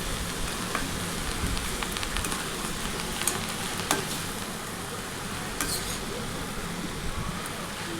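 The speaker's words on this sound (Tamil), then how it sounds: "எல்லாத்தையும் ஒன்றா கிளறி விட்டுக்கலாம்." A bottle gourd stir-fry is stirred in a pan, giving a soft, continuous sizzle and crackle with faint scraping clicks from the spatula, even and fairly quiet throughout.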